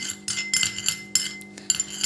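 A spoon stirs a vitamin E capsule into water in a bowl, making quick, close metallic clinks and scrapes in short bursts with brief pauses between strokes.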